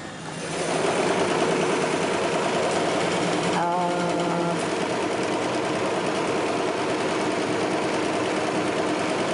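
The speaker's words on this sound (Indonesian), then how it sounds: "Kalau ini kan mesin jahit rumah" A home sewing machine runs steadily at close range for most of the clip, a continuous motor whir and rapid needle chatter with a brief change in pitch partway through.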